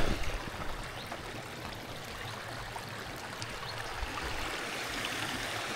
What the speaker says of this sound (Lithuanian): toliau čia tokia upė prasideda